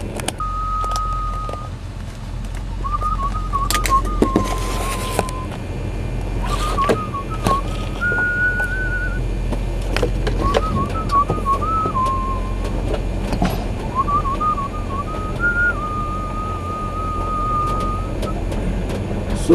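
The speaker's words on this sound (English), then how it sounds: "So my spirit just made me open the camera and whistle." A person whistles a melody in several phrases, clear and fairly close, over a steady low rumble of background noise, with short pauses between the phrases.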